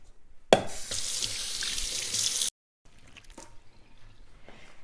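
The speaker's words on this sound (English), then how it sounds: "Hand washing, very important." Hands are washed under a running kitchen tap while a Thanksgiving turkey is prepared, giving a loud steady water rush for about two seconds that cuts off abruptly, followed by faint quiet handling sounds.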